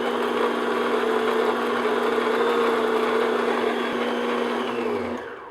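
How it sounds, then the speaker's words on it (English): An electric mixer beats meringue for Eton mess at medium speed, giving a steady, close whirring hum that holds constant for about five seconds before cutting off. "now I'm going to continue to beat on medium speed until we reach soft"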